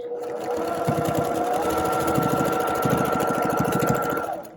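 A sewing machine stitches along a quilt border in a steady, close, continuous whir with rapid needle chatter, running alone for several seconds before slowing to a stop.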